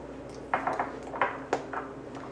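Small seeds rattle and clink into glass jars in a few quick pours, light tinkling hits close by, as mustard seeds are portioned out for fermented dill pickles.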